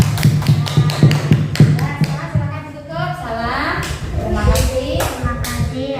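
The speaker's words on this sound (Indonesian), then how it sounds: "Beri tepuk tangan buat kelompok 2." Classroom applause for a student group in an elementary religious-studies lesson: a burst of sharp, rhythmic claps up close for about two seconds, then children's voices and more scattered claps mixing in.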